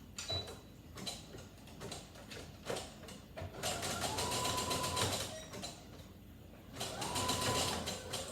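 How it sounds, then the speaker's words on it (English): A sewing machine runs a zigzag stitch along a raw fabric edge on beginner panties, whirring in two long steady runs after a few short starts, close-up and moderately quiet, with no voices. "I'm going to sew and finish off that raw edge with a little bit of a"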